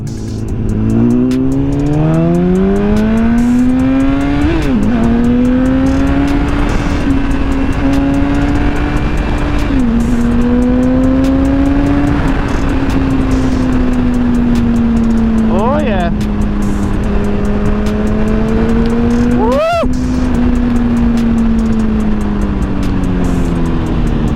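A BMW S1000RR sport motorcycle with a sensitive quarter-turn quick throttle drones loudly and steadily while ridden, its engine note gently rising and falling through shifts, with a voice talking over it.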